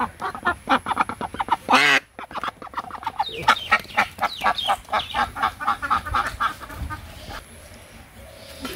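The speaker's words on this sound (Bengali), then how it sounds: "থাক তো হাঁসগুলারে ছেড়ে দিই না," A flock of village ducks quacking close by in rapid, overlapping bursts that start with one loud call and then run as a steady, busy chatter.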